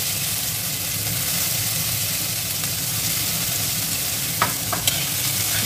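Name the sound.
ginger, garlic and chilli being stir-fried in oil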